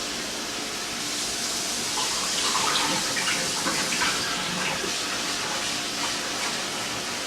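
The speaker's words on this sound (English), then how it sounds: "Wash the rice." Rice is being washed under a running kitchen tap: a steady, close hiss of flowing water with swishing and splashing through the middle as the grains are stirred, with no talking.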